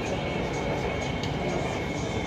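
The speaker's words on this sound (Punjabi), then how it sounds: "ਓਰੇਂਜ ਟ੍ਰੇਨ ਦੇ ਵਿੱਚ।" Steady, dense rumble inside the Lahore Orange Line metro train while riding, a continuous rolling roar with faint higher hiss, no talk.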